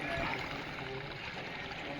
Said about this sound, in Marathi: खूप जास्त प्रवाहाने पाणी वाहत आहे।